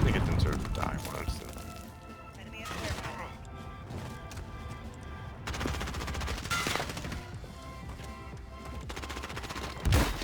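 Rapid Uzi gunfire in a shooter video game on the Sawmill map crackles in repeated bursts over in-game clatter, with a player talking throughout.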